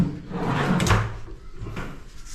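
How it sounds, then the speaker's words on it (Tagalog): A soft-close closet drawer in a newly built house slides open and shut with a muffled thump, then eases quietly closed, close by with no talking. "soft close na drawer"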